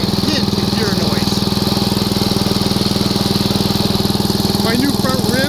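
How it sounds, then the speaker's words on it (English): A 1955 Wheel Horse Senior garden tractor runs in second gear, its engine chugging steadily and loudly up close, with a faint hint of gear whine beneath the pulsing putter. "we're in second gear right now. You can hear there's just a hint of gear noise."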